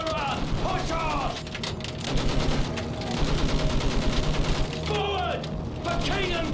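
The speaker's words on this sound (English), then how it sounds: "Use that machine gun, blow them down!" Rapid machine gun fire in World War I trench combat in Battlefield 1, with rattling bursts repeating over a roar of battle, blasts and distant voices.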